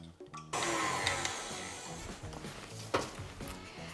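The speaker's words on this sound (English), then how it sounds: "I'm going to pop them into the mixer now on a medium speed, and we are just going to let them form soft peaks" Electric stand mixer whisking egg whites at medium speed toward soft peaks for a pavlova, a steady close whirring drone with whisk rattle running the whole time after a short start.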